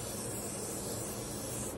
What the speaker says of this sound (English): Alright, we about to spray.